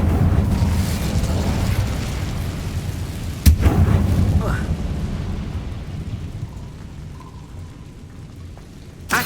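Incendio fire spell cast in Hogwarts Legacy: a sharp crack followed by a roaring whoosh of flame over a rumbling game ambience that slowly fades.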